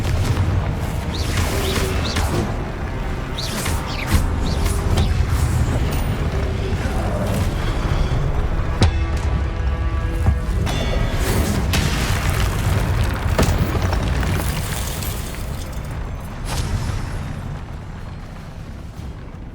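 Fiery Confringo spell explosions burst in Hogwarts Legacy, a loud, dense run of booming blasts and crackling impacts that keeps going for most of the stretch before easing off near the end.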